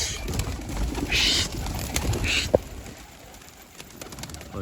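Pigeons are released and take off, with bursts of wing flapping and soft cooing amid outdoor background noise, one sharp knock partway through.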